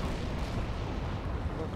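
Battlefield V game combat with a grenade blast amid gunfire, a dense, continuous rumble of booms and shots filling the short stretch, loud and close with no clear gaps.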